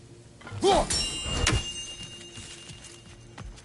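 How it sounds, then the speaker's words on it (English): Chimes ring out in the God of War Ragnarok video game, with a wavering tonal ring and sustained bright overtones over a busy game soundscape, peaking briefly near the start and then fading. "Good to see the chimes working as intended."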